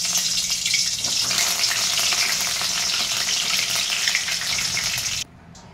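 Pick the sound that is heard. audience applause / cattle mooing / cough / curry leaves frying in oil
curry leaves frying in oil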